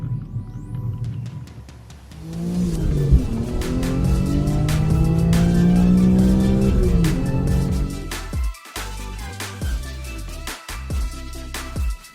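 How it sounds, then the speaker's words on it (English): A BMW S54 inline-six engine revs up with a rising harmonic whine, holds a loud high-rpm howl for several seconds, then cuts back to choppy, pulsing lower revs near the end. "that engine right there, the S54 inline 6, one of the best inline 6s to me that has ever been made"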